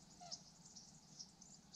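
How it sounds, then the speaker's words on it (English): A faint, brief bird call sounds once outdoors at night at Cobb Estate in Altadena, California, over a steady thin high hiss in the dark background. "Stupid bird."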